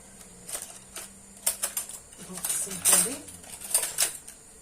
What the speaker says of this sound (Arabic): نخلط هذه المكونات ونحطهم على جانب